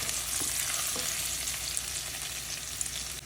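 Garlic pieces sizzle in hot oil while being stirred for a tomato-garlic sago upma, a steady close crackling hiss with small pops throughout.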